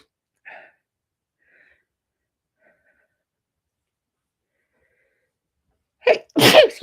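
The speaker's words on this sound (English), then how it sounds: "I'm sorry, I have to sneeze." A single loud sneeze bursts out near the end after several seconds of near silence, with a faint breath or small noise early on.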